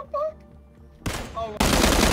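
Gunfire in the battle royale game PUBG, a couple of sharp shots and then a loud sustained burst of rapid fire, with brief tonal game sounds in between.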